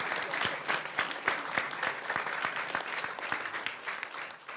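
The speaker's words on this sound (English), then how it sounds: "That was insert for applause." Audience applause at the signing of Wisconsin's 2023-25 biennial budget by Gov. Evers, a steady round of clapping with sharp individual claps standing out, moderately loud and close, with no talk over it.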